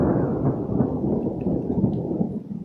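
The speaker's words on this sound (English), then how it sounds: "The storm." Thunder during a storm, a loud, deep, continuous rumble that rolls on for the whole stretch. A light hiss of rain sits in the background and no one speaks.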